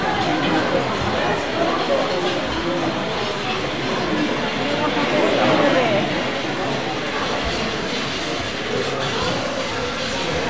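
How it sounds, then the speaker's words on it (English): A model night train runs along the tracks of a large display layout, its faint rolling rumble and clatter mixed with the murmur of a crowd and people talking nearby. "There it is, one of the night trains."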